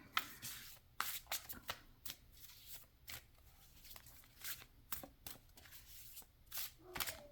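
A deck of animal oracle cards is shuffled by hand, faint and close, with repeated quick riffling swishes and taps in an irregular rhythm.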